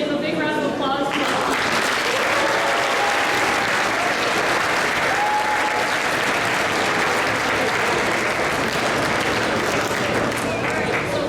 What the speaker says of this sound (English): let's give a big round of applause to